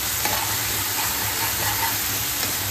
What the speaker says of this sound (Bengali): একটু এটাকে ততক্ষণ নাড়াবো যতক্ষণ না পর্যন্ত একটু গন্ধটা যায়